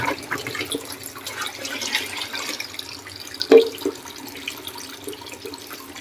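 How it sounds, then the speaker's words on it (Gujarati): Water poured and swirled over rice and lentils being washed, a soft continuous running trickle with one brief louder splash near the middle. "આપણે આ ત્રીજી વાર પાણી એડ કરી ધોઈ નાખીએ"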